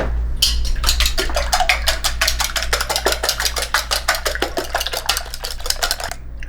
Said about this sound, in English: I'm going to put each 2 eggs in here in the little pan to get those going.